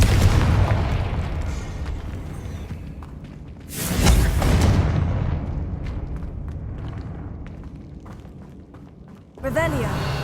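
Confringo fire spell explosions in the game Hogwarts Legacy, a loud booming burst followed by a rumbling tail, then a second sharp blast near the end over a dense game soundscape.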